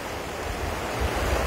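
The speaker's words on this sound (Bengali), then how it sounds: "এখন ঢেউগুলো খুবই হালকা এখন আসছে" Gentle sea waves at Tajpur beach give a soft, continuous wash of surf with low wind rumble, fairly faint and steady throughout.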